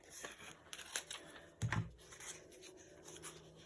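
Scissors snipping paper for a handmade glue book, a few faint, short cuts in a quiet room with one slightly louder snip partway through.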